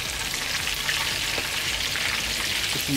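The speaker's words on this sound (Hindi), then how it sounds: "अब तकरीबन चार मिनट हो चुके हैं हमारे कबाब को एक साइड से कुक होते हुए" Chapli kabab frying in oil in a pan, a steady loud sizzle and crackle that holds evenly throughout with no talk.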